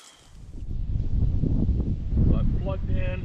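Wind gusts buffet an outdoor microphone on a cold, windy day at a drone flying field, a low rumbling roar that builds and stays heavy, with a brief voice-like tone near the end.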